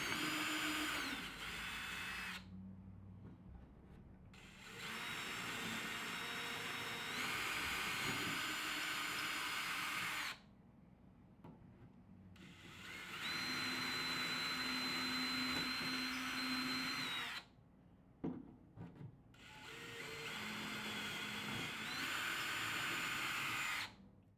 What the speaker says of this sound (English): carefully drill through the panels to the front edge on a low torque